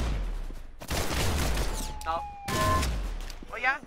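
Heavy game-weapon fire from a grenade launcher, with bursts of blasts and booming hits in a fast, loud, cluttered battle mix, punctuated by short electronic tones and chirps.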